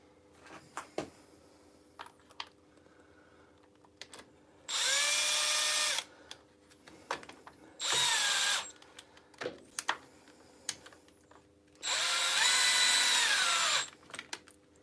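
A power screwdriver whirs in three sustained bursts as it drives a screw, with quieter clicks and handling noises between the runs and no talking.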